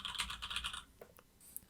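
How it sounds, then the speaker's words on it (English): Keys clatter in a quick run of close, crisp taps on a desk keyboard recorded through a FIFINE T669 microphone with its windscreen cap on, then a few sparser, softer clicks trail off near the end. "Right now I'm typing on my desk"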